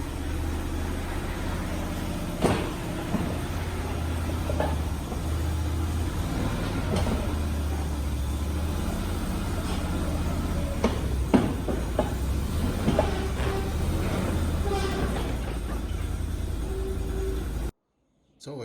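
A Can-Am Maverick side-by-side is driven back up onto a trailer, its engine rumbling low and steady with knocks and clunks at intervals, then the sound cuts off abruptly near the end.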